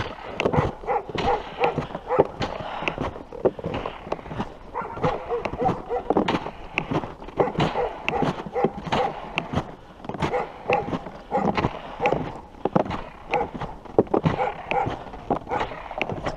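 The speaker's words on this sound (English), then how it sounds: "Dogs barking at you from across the lake or river." Dogs bark from across a frozen river in a snowy winter setting, repeated yips and bow-wows at a distance, mixed with crunching steps and some talk nearby.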